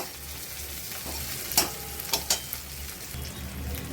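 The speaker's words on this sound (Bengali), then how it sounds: "পেঁয়াজ টমেটো এবার একসাথে একটু ভেজে নেব।" Onion and tomato fry together in a pan for a fish gravy, a low steady sizzle with a few sharp spatula scrapes and clinks partway through, close and without any talk.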